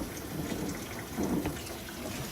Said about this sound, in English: filling up the sink in 104 with hot water